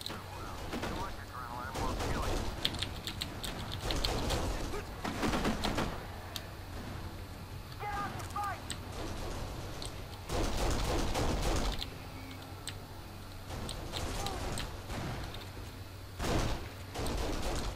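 Bursts of gunfire in the Kane and Lynch: Dead Men video game during a bank job, loud repeated shots and booms in clusters, with someone talking over the shooting throughout.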